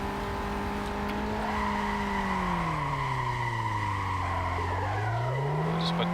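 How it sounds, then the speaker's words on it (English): In BeamNG Drive, a car's tires skid and squeal through a weak burnout attempt, engine droning as its pitch sags and recovers, with continuous loud tire noise and no speech. "This thing doesn't even have the power to do a proper burnout."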